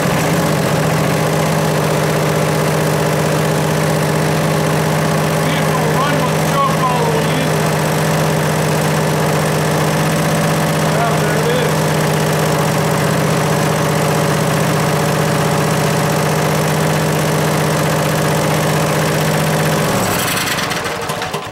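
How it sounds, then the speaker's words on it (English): A 12.5 hp Vanguard engine idles steadily, a close, loud and even drone that holds for about twenty seconds before cutting off abruptly. "That is a nice running motor right there."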